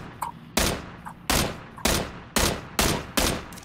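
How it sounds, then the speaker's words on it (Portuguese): Gunfire in a battle royale video game: about seven sharp, loud shots fired one by one at a steady pace, each with a short ringing tail, a few fainter pops between them. "eu vou atirar"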